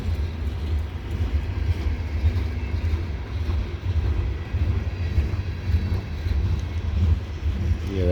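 Loaded CSX coal train rolling along the old B&O mainline in the first snowstorm of 2025, a loud steady low rumble of wheels and cars passing close by without letup.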